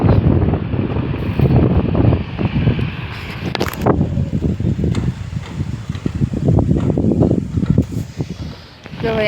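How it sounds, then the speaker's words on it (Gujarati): Wind blows hard across the microphone before rain, a loud, gusting roar that rises and falls throughout the clip. "એવો પવન આવે"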